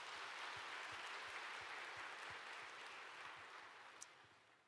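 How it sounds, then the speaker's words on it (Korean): A church congregation at a Sunday service applauds, a dense, even clatter of many hands heard from a distance that slowly thins and fades over a few seconds. "큰 박수로 영광 돌리겠습니다"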